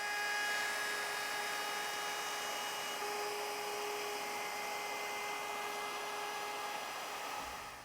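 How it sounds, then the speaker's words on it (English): A router spins at a steady high-pitched whine while its bit cuts a dado into wooden leg stock, guided by a bearing riding along an MDF fence; the tone holds evenly, then tapers off at the end. "We've got the depth set on our router. So now we're ready to start cutting."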